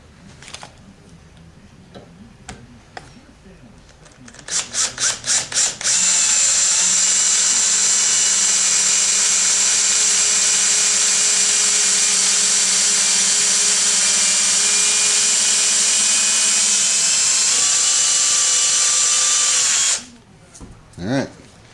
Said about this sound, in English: So when I put my drill in, it's going to drill halfway through.